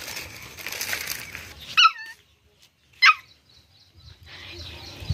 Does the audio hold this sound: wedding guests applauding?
no